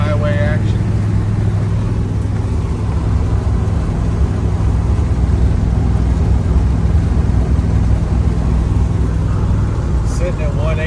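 A car cruises along a back road highway on the commute home, its engine and road noise forming a steady, loud drone throughout with a low hum underneath and no clear breaks.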